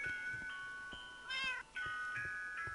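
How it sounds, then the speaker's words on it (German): A Minecraft cat meows several times in quick succession, with bright, clear, electronic-sounding calls that rise and fall and stand out against a quiet game background. "Miau."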